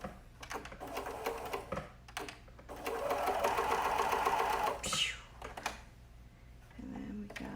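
A sewing machine stitches a straight seam on a kids' hoodie, running steadily and fairly close for several seconds, pausing briefly, then starting again.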